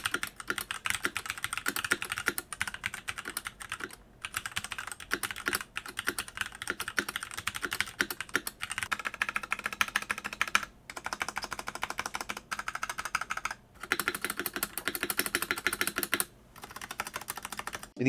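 Steady typing on an LTC Nimbleback NB831 mechanical keyboard with unlubricated stabilizers, a dense clatter of keystrokes with brief pauses, close and clear with no voices.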